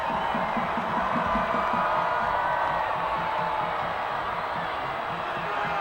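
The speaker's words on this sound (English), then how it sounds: "The crowd going nuts here, and this is not when you want to make noise." A packed football stadium crowd roars loudly and continuously, a dense steady wall of cheering and shouting with no breaks across the whole stretch.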